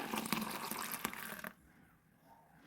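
Milk and curd poured back and forth between vessels to mix for homemade thick curd, a close splashing liquid pour for about a second and a half, then quiet.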